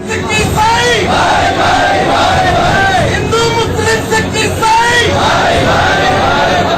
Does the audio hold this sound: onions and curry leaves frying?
no